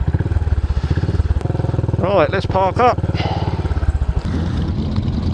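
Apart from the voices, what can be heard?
motorcycles revving on the Ring of Red ride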